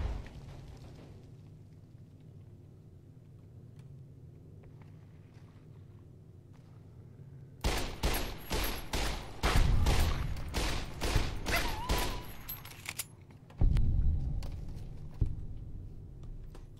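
Gunfire in Fallout: New Vegas: after a quiet stretch, a rapid string of loud shots rings out in close succession, followed by a brief pause and then another heavy blast with a rumbling tail.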